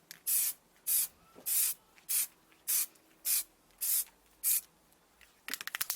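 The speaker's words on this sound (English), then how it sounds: "don't start spraying over the item." An aerosol spray paint can coats a motherboard heatsink in eight short, evenly spaced bursts of loud hiss, each about half a second long, followed by a rapid rattle of shaking at the end.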